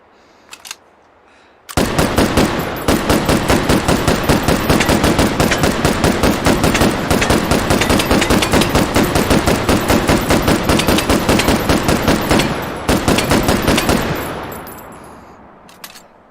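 A hand-cranked multi-barrel gun fires in the VR shooter H3VR, a long loud unbroken rattle of rapid shots close up for about eleven seconds, then a fading mechanical tail; a few faint clicks come just before.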